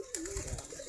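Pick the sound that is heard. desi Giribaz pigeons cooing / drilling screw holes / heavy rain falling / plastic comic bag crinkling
desi Giribaz pigeons cooing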